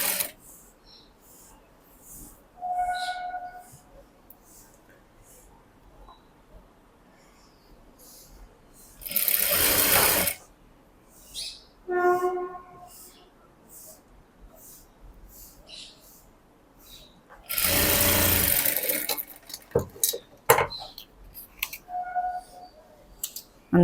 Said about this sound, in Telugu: ఫోల్డ్ చేసుకొని ఇలా స్టిచ్ వేయాలి.